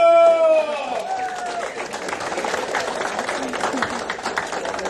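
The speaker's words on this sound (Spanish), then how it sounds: "un fuerte aplauso" A family applauds at a birthday party, scattered clapping and lively chatter filling the room after a tonal flourish at the start, with voices mixed in throughout.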